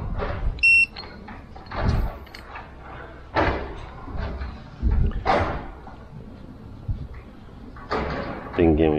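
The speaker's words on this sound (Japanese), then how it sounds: "もう一回ブザが鳴って" A Sugotaka electric pole pruner gives a short, clear electronic buzzer beep near the start, followed by clunks from the tool being handled and a person talking nearby.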